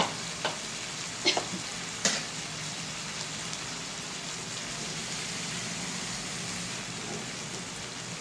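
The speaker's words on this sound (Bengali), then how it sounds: "ভালো মতো একটু নেড়ে চেড়ে নিতে হবে" A paneer and potato curry with yogurt is stirred in a pan, a soft steady sizzle like light rain broken by a few sharp utensil knocks near the start, with no voices.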